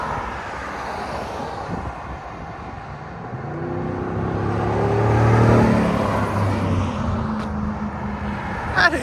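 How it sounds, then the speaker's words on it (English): A 2023 GMC Yukon Denali with a 6.2L V8 and Flowmaster Flow FX cat-back exhaust drives past outdoors, its deep engine note swelling as it approaches, peaking mid-clip and fading away. "He's gonna do a drive-by next."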